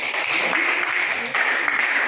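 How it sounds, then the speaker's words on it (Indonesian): Classroom applause from students during a lesson, a steady patter of many small hands clapping together for about two seconds at moderate volume. "Kita berikan tepuk tangan buat Yohanes."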